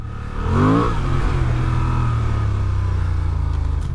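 A Honda XL750 Transalp adventure motorcycle revs up close, its engine note climbing in a strong rising sweep and then settling into a steady, loud drone.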